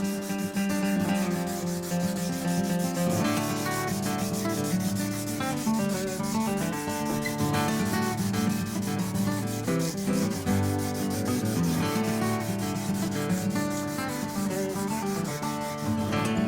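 Fine 1000-grit sandpaper rubs along a guitar neck in steady, close strokes that run without pause, with a tonal musical bed underneath.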